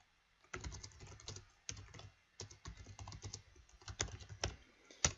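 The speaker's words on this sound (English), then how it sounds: "I'm typing where we can't see it" Typing on a computer keyboard in quick irregular bursts of soft clicks with short pauses between runs, close and quiet with no voices.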